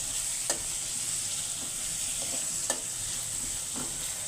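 Vegetable curry settling into a thin layer of hot oil in a home kitchen, giving a steady, even sizzle with a few soft stirring knocks spaced through it, moderately close and without voices.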